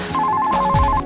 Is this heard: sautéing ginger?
no